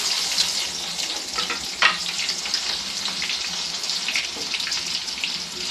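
Masala hits hot oil for a chicken tava fry, giving a close, steady sizzling hiss with a sharper crackle burst near the start and light stirring throughout.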